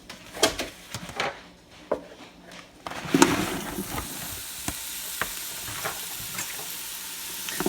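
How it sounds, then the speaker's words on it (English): Partially frozen sausage sautés in an Instant Pot, a few sharp knocks and clatters of a utensil at first, then a loud sizzle that builds and stays steady, broken by occasional stirring scrapes. "You'll want to cook the sausage until it's brown, pretty much all the way cooked"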